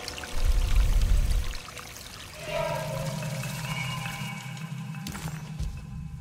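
Water gushing from a hose in the video game Alone in the Dark, a loud pour at the start settling into a steady, lower rushing flow that runs on alone to the end.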